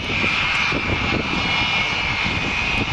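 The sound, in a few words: Avro Vulcan bomber jet engines while touching down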